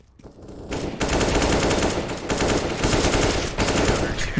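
Rapid automatic gunfire in Counter-Strike: Global Offensive during a competitive match, loud sustained bursts of shots rattling almost without pause after a quieter opening.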